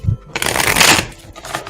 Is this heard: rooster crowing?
no